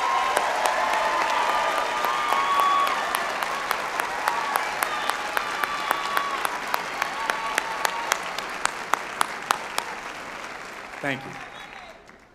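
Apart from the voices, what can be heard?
graduation ceremony audience applauding faculty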